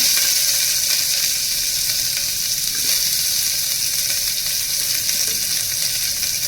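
Onion fries in a hot pan, giving a steady, dense sizzle that stays loud and even throughout, close up with no talking.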